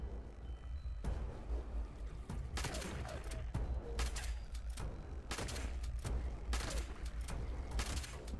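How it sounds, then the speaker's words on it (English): Shotgun fire in the video game Fallout 76 Wastelanders, repeated loud blasts over a constant rumbling game background with no clear talk. "I will shoot you and shoot you and shoot you"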